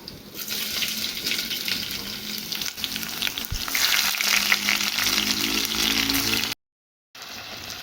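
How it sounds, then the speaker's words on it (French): Chillies, bell peppers and onions sautéing in hot oil make a loud, steady sizzle up close, with stirring scrapes mixed in and a brief drop to silence near the end. "je vais maintenant les faire sauter dans de l'huile"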